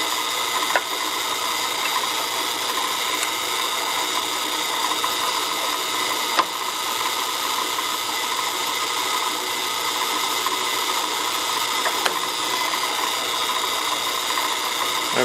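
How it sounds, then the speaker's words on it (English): A power drill whines steadily and continuously, boring a 1 5/16-inch hole through plastic pipe at close range, with faint periodic clicks and no talking. "we'll go ahead and drill the other one"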